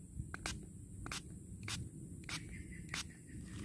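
Five short hissing spritzes of fish bait essence from a spray bottle, evenly spaced and close, over a low background rumble.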